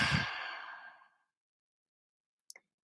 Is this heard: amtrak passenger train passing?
no